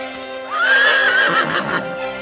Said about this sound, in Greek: Αυτό είναι το άλογο?